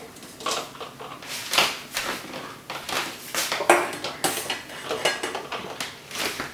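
Plastic storage container cups and dishes are loaded into a dishwasher rack, with a series of close clattering knocks and plastic clicks at an irregular pace.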